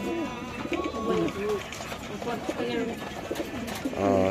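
White Lakka pigeons coo repeatedly up close, overlapping throaty rolling calls continuing steadily throughout, with a louder burst near the end.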